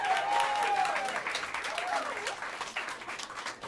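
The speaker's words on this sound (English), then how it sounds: "please help me welcome them to the stage with some warm applause as I mention their names" Audience applause at Smalls Jazz Club welcoming a jazz quartet to the stage, steady dense clapping from a small crowd with an announcer's voice speaking over it throughout.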